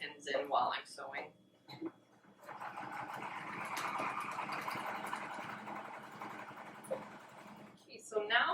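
Sewing machine stitching a pocket seam on a ribbon skirt, running straight over pins, a steady whirring hum lasting several seconds, with a person talking quietly before and after it.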